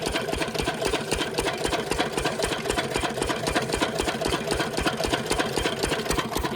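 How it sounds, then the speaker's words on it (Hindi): Field irrigation pump engine running fast after its throttle is raised, a loud, close, rapid even chugging beat with steady mechanical clatter and no talk. "ये देखिए इंजन का स्पीड बढ़ गया।"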